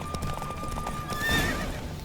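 A horse galloping in The Witcher 3, quick close hoofbeats followed by a loud whinny partway through, with faint game sounds underneath.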